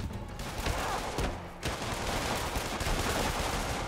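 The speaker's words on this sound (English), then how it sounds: "Maybe not, don't shoot civilians, but yes, keep shooting up the prisoners." Police fire guns in the video game Marvel's Spider-Man, dense overlapping bursts of gunshots crackling almost continuously, with a brief lull partway through before the barrage resumes.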